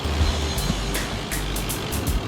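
A car turning right on a road passes close by, its engine and tire rumble steady and loud, with faint higher tonal blips over the traffic noise.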